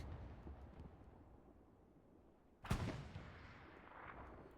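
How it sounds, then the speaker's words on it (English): A tank round cracks in a World War II video game, one sharp loud blast and a ringing ricochet tail, set against faint rumbling battle noise. "Ricochet hit against Uncle Earl's tank"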